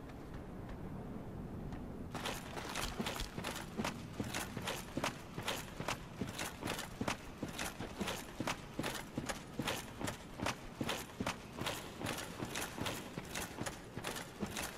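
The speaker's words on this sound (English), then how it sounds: "Something large, stomping" Heavy, regular stomping footsteps of a large creature in the Dark Souls catacombs, starting after a couple of seconds and thudding steadily and fairly loud throughout, with no talk over them.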